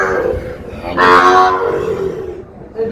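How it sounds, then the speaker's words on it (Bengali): A young bull calf, about four to five months old, at a cattle farm in Comilla gives one loud, close moo lasting about a second, with quieter lowing around it. "এটা ষাঁড় বাচ্চা"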